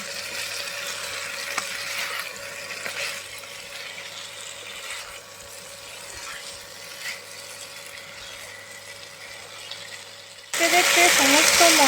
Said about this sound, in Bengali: এরপরে ভালো করে মশলার সাথে এইভাবে কষিয়ে নেব